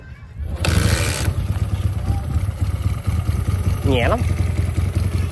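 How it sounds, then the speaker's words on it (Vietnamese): A Honda CD 125cc Twin motorcycle with an original engine and a weak 6-volt battery starts with a short burst and then idles in a steady, low, continuous rumble. A person speaks briefly over it. "Nè em nổ máy cho anh em nghe luôn."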